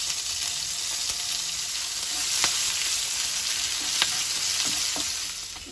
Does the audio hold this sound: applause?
no